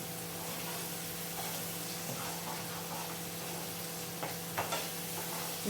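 Fish masala sizzling and frying in oil in a pan while being stirred, a steady close hiss with occasional soft scrapes and small pops toward the end, no talk.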